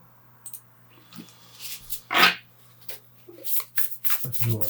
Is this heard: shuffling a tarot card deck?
yes